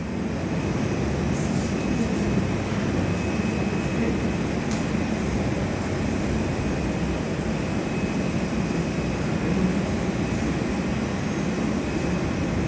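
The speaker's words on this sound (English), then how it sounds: "The one that landed before this one, and this one here, the second one that's landing" A Virgin Australia Boeing 737-800 jet lands at Perth Airport, a steady broadband roar heard from an indoor viewing platform, constant and fairly loud for the whole stretch, with no voices.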